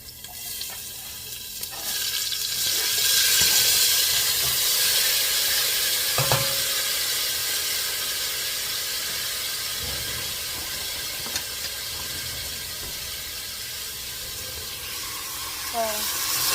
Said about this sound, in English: You can hear that sizzle when you're cooking.